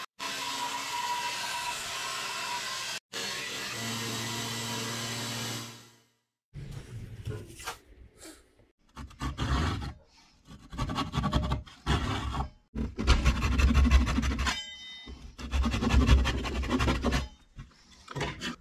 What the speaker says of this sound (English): let's see if we can shave this headstock down to a reasonable thickness